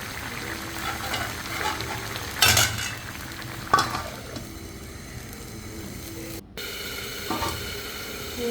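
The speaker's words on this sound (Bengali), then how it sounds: "আরও একবার আমি তরকারিটা নাড়াচাড়া করে দেব" A spoon scrapes and stirs through a pan over a continuous sizzle, with a few louder knocks against the metal.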